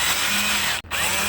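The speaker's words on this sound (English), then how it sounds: "So what I want to do is drill a hole right here." Power drill boring a hole into a carved wooden walking stick, a steady close whine that cuts out for an instant near the end and then resumes.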